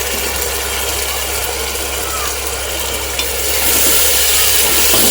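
Onion, tomato and chili pieces frying in a pan, a steady close sizzle with faint stirring scrapes, growing slightly louder and brighter toward the end.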